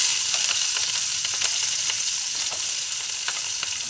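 Capsicum hits a hot kadai and sizzles in oil with a loud, continuous hiss. Small crackles and pops sit close over it throughout, with no speech.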